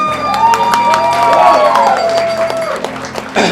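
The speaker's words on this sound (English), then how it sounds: "Round of applause, please." Wedding reception guests applaud and cheer, loud crowd clapping with whoops and shouts over steady background music.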